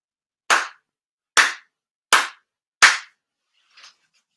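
Four sharp, deliberate hand claps at an end-of-year ceremony, evenly spaced and loud and close, followed by a faint fifth tap, with no talk over them.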